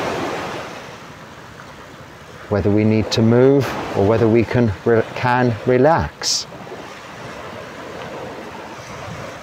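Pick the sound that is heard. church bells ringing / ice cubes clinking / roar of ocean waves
roar of ocean waves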